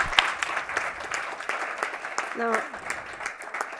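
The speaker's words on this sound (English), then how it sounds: "please a warm applause to Marcela" Warm audience applause for Marcela at a talk, a steady spread of clapping that fills the room, with a brief spoken word over it.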